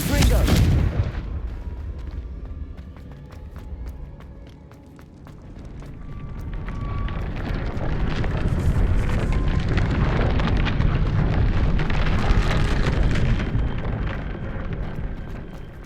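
Confringo fire spell blasts in the Hogwarts Legacy video game: a sharp loud burst opening, then repeated crackling booms and rumbling explosions over about sixteen seconds, dense and close.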